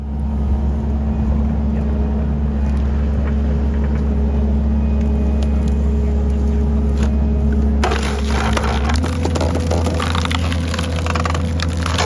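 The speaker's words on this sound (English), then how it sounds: "this was like a box wedge on a skid steer splitter" Box wedge log splitter mounted on a skid steer drives through firewood logs, a loud, steady hydraulic engine drone with a rough crunching shift partway through as the wood gives way.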